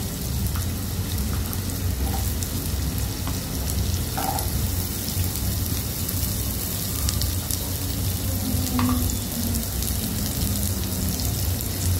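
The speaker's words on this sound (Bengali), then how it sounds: "এবার আলু আর কুমড়োটাকে আমি ভেজে নেবো একটু।" Potato and pumpkin pieces fry in a hot wok with a continuous dense sizzle. The hiss stays even throughout, and a few faint clinks sound underneath it.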